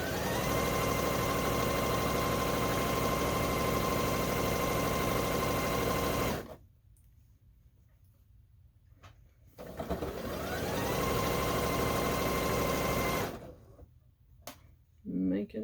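A sewing machine stitches a straight line on a table runner, a steady loud whirring hum that stops twice for a few seconds before starting up again.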